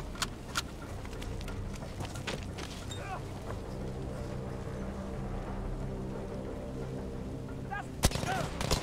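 Weapon fire in the World War II shooter Battlefield V: scattered sharp shots and bursts, close and fairly loud, spread across a rumbling battle background, with a heavier cluster of shots near the end.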